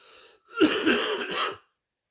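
A single rough, phlegmy cough with a throat-clearing rasp from a congested person, close by, following a brief breath.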